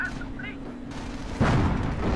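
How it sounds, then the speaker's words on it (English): A heavy explosion in the World War II strategy game Company of Heroes booms in with a broad, loud rumbling burst that sustains to the end, after a stretch of quieter battle noise. "Very damaging explosion."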